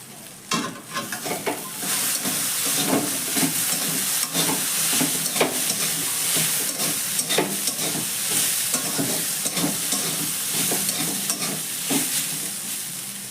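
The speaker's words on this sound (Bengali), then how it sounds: "এবার ঢাকনাটা সরিয়ে নিয়ে আবারও ভালো করে একটু নাড়াচাড়া করে দেবো" Small-cut potatoes frying in a pan over a medium-low gas flame, stirred continuously with clattering scrapes over a loud, steady sizzle and hiss, close up, no voices.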